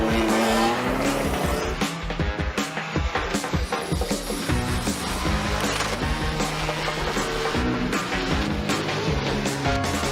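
A pro drift race car at a Formula Drift event in Salt Lake City roars with loud exhaust and revving while its tires squeal and skid continuously, an intense, close, unbroken din.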